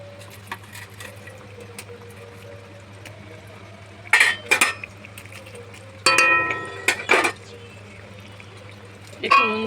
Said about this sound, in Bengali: এইবার আমি মাছগুলো ছেড়ে দিলাম।